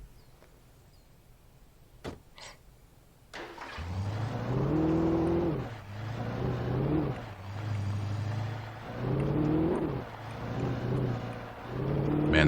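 A car engine in the video game Alan Wake starts up after a couple of clicks and runs with a low droning hum that rises and falls in repeated revving swells, loud and close, with no talk.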